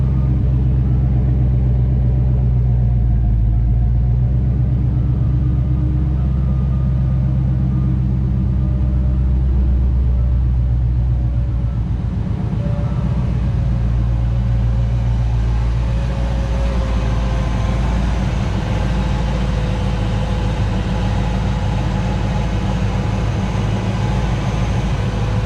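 A Ford Mustang Foxbody engine idles after a cold start, having sat unused for a while, a steady close, loud low rumble that shifts slightly in tone partway through, with no talking.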